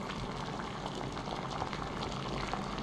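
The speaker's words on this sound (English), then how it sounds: "it's nice to hear the potion bubbling" A potion bubbling on an alembic in Oblivion, a steady soft boiling burble that holds evenly and runs alone throughout.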